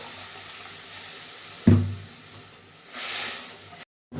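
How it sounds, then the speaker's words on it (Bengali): Water is added to a pan of cooked-down masala for tilapia oil koi fish curry: a sudden close splash, then a swelling loud sizzle as it hits the hot pan, with no voices. "আমি দিয়ে দিলাম জল"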